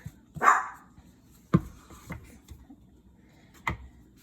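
A dog barks indoors in a home kitchen during a baking demonstration: a few sharp barks, the first loudest, then a couple of quieter yaps spread across a few seconds.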